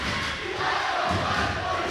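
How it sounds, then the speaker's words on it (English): Loud, sustained crowd roar and cheering fill a high school boys' basketball gym, a dense wall of voices with no pauses. "the amount of noise from both these crowds tonight"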